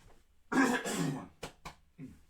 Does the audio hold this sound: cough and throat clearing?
yes